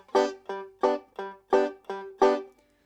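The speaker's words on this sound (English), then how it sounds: "vamping sounds like this" Bluegrass-style banjo vamping backup: seven crisp, evenly spaced chord chops in a steady rhythm, each bright and ringing briefly before being damped, played close and alone.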